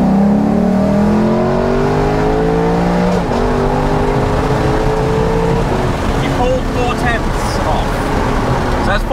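A Lexus LC500 at full throttle from about 40 km/h in second gear, its engine note climbing loud and close through rising gear sweeps with a brief shift, people talking over the roar inside the cabin.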